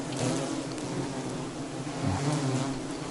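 A dense swarm of insects buzzes continuously, a loud unbroken drone with no voices.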